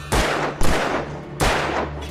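Three loud, close gunshots ring out at irregular intervals in the video game Alan Wake Remastered, each one a sharp blast that trails off into a short echo. No one speaks.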